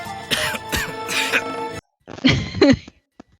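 A man coughs and clears his throat in a few harsh, close bursts, falls briefly silent, then coughs again more weakly.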